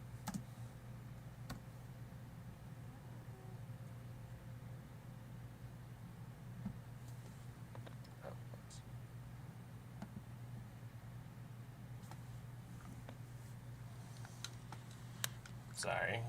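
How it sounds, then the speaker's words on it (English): Quiet typing on a computer keyboard, sparse soft key clicks scattered over a steady low hum, faint and somewhat distant. "Just typing something in my Discord."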